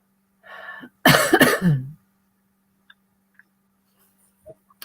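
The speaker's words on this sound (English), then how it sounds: "Just started coughing." A burst of harsh coughing close by, a few rough hacks in quick succession after a brief low sound, then quiet with faint ticks.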